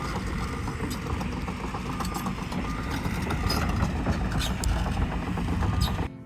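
A very large excavator engine runs at a steady, heavy idle with clanking and vibration at a homestead pond dig, continuous and fairly close with no talk.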